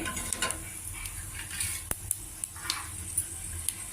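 Soft continuous sizzling of mustard seeds and chilli pieces tempering in hot oil, with occasional sharp clicks and scrapes of a utensil stirring in a pan.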